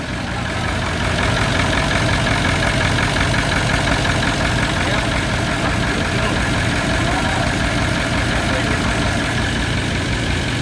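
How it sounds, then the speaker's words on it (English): A steady, rumbling Toyota 1VD V8 diesel engine idles continuously with an even low throb, loud and close, no other sounds breaking through. "we're actually quite surprised with how well it did idle and run once it was going"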